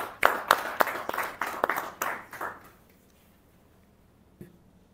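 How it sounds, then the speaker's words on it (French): A small audience at an official installation ceremony gives a short burst of rhythmic clapping, about eight close, sharp beats that fade out after a few seconds, followed by near silence and one last faint tap. "je voudrais en cet instant une vive acclamation"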